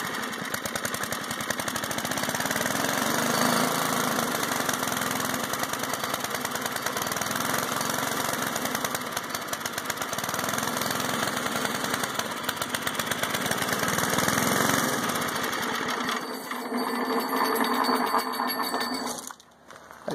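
A small gasoline engine runs on a homemade buzz saw, a continuous close rattling drone with a fast ragged pulse. It holds steady for most of the time, then sputters and dies away at the end.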